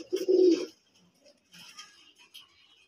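Pigeons at a pigeon farm coo in a low, throaty burst near the start, then softer scattered calls and light bird sounds follow, with quiet gaps between.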